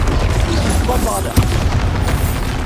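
A Bombarda explosion spell in Hogwarts Legacy, a deep rumbling boom with one sharp burst near the middle, over dense background game noise.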